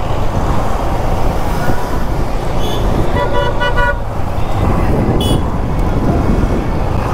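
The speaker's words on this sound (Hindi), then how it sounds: "तो भाई ये रहा कचरे वाला ऑटो" A garbage-collection auto-rickshaw passes along a street amid steady traffic noise, with a brief tonal horn or jingle sounding in the middle before the rumble continues.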